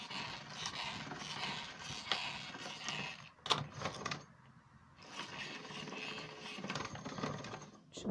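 Chebakia dough passes through a pasta roller machine, giving a faint mechanical whirring and scraping in two stretches separated by a short pause.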